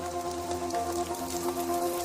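Rain patters steadily onto rainforest leaves, a dense continuous hiss with scattered drops standing out, alone at moderate level under a faint tonal hum.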